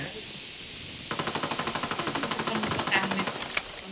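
Fully automatic gunfire in a video game erupts after a quiet second as a fast, even burst of sharp shots that keeps rattling for over two seconds over a steady game background.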